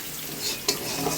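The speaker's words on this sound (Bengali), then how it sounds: "আমি এখানে পেঁয়াজ কুচি আর তেজপাতাটা দিয়ে দিলাম, একটু ব্রাউন ব্রাউন করে ভেজে নেব" Chopped onion and bay leaves fry in oil with a brief close sizzle and a quick stirring scrape, alone.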